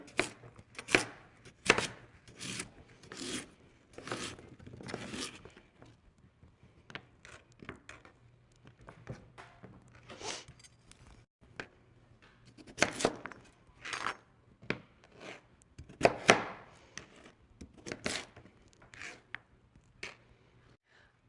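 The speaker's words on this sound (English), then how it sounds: "Okay, now I'm going to cut these into small pieces," A knife chops sweet potatoes into one-inch cubes on a cutting board, making quick clusters of crisp, close taps that come in bursts separated by short pauses, with no talking.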